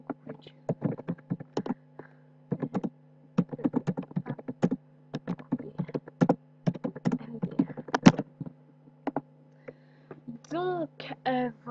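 Typing on a computer keyboard: irregular bursts of quick, close key clicks separated by short pauses, with a voice speaking briefly near the end.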